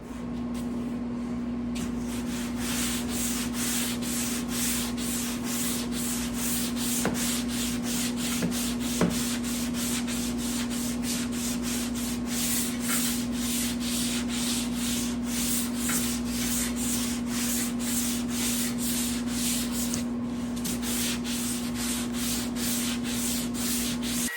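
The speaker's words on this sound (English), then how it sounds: "So I'm just letting this dry now for a little bit, and then I'll block sand it." Steady, continuous block sanding on a 1985 Jeep CJ7 door during repair and repaint, a dry rubbing hiss with rhythmic strokes running the whole time at even loudness, with a constant low hum underneath.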